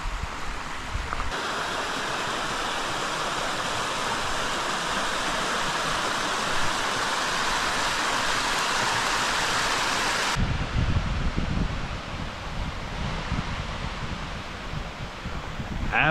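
Stream water rushes steadily on a hike in Shenandoah National Park, a dense close wash of flowing water that goes on without a break and grows louder and rougher near the end.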